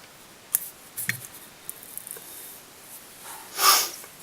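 Scissors snip fly-tying material while a perch-and-shad hybrid pike jig is tied, giving a few short, close cuts with quiet gaps between them and one louder rustle near the end.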